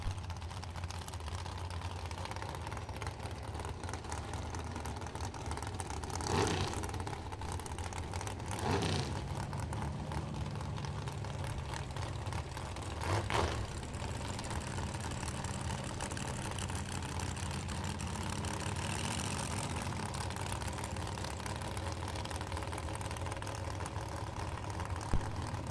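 Two rear-engine dragsters from Wisconsin idle at the starting line of a drag strip during Super Pro bracket racing, a steady low engine rumble running throughout with a few brief louder revs.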